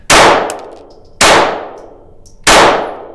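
Three sharp gunshots from a Taurus TX22 .22 pistol firing Stinger rounds at a range, each a loud crack followed by a ringing decay, spaced about a second apart.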